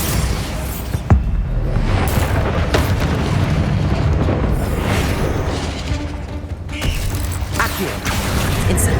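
A magical Bombarda blast spell in Hogwarts Legacy, with a booming impact and rumbling debris over constant loud game ambience, followed by creaking mechanical rattles.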